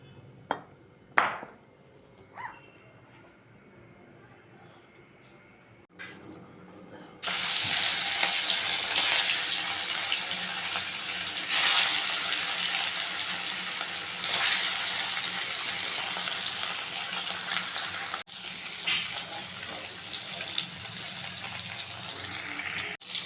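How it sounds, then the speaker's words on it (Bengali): Fish fry in hot oil in a pan, a few quiet kitchen knocks first, then a sudden loud, steady sizzle that continues without a break, close and dense. "এবার মাছগুলো ভেজে নেব।"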